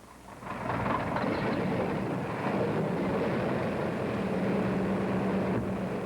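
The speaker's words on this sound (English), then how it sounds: "Engines start." Engines of a large bomber aircraft starting up, a low roar that swells in after a quiet moment and then holds steady and loud with a droning hum.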